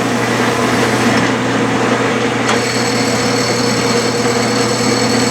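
Lapping the cylinder bore of a home-built vertical steam engine with a spool valve, giving a steady, continuous grinding whir that holds an even level throughout, close and fairly loud, with no talking.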